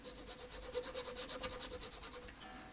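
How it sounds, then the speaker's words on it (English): Steel nut file rasping across the nut of an unbranded Telecaster-style guitar, a close, quiet run of short rhythmic back-and-forth strokes with no talking. "let's go work on with the nut file."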